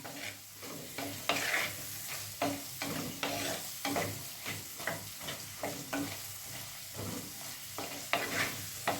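Ivy gourd is stirred in a pan while it cooks for a vegetable fish-style curry, with repeated spatula scrapes and clicks in an irregular rhythm over a gentle sizzle, close and moderately quiet.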